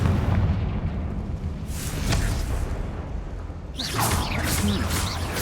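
A Confringo fire spell is cast in the Hogwarts Legacy video game and lands in a loud, rumbling blast against a barricade, followed by a noisy burst of crackling game effects.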